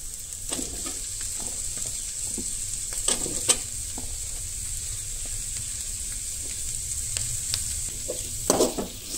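Onions fry in a pan for a chicken gravy, giving a steady close sizzle with scattered stirring scrapes and clinks of the spoon against the pan, and no one talking.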